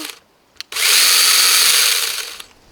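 A battery-powered cordless drill whirring for about a second and a half after its trigger lock is released, a bright steady whine that starts abruptly and winds down, close by.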